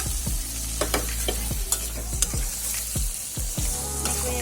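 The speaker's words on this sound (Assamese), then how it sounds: "এয়া পিঁয়াজখিনি ভজা হৈ আছে, প্ৰায় ৰঙচুৱা হৈ গৈছে" Onions frying in a pan until nearly golden brown, a steady close sizzle broken by repeated sharp scraping knocks of stirring, with no talking.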